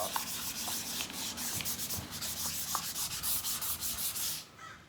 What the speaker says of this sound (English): they took me about 20 minutes to do a wheel, just with 600 grit sandpaper